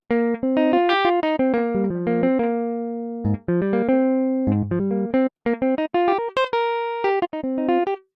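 A plucked guitar melody from a Kontakt guitar library preset in FL Studio for an Afrobeats track, with crisp notes in quick bouncy phrases and a few held tones, clean and alone.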